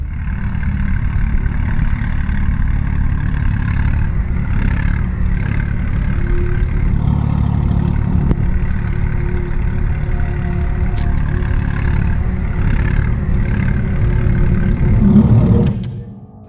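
A large tractor engine runs loudly and continuously nearby with the tractor in a wheelie, a low throbbing drone with a faint high whine above it, cutting off abruptly at the end.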